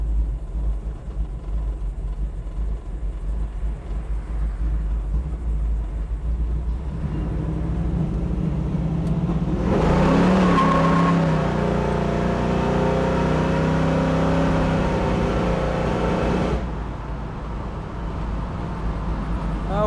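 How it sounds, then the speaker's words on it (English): A 1969 Chevrolet Camaro with a 383 stroker engine rumbles from inside the cabin, a low steady drone that swells into a louder surge of acceleration midway before settling back to cruising. "Plenty of pickup out of this 69 Camaro. 383 stroker."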